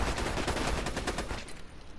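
A sniper rifle fires in the video game Borderlands 2. A quick series of loud, punchy shots comes in a fast rhythm, then trails off into a fading tail with no talking.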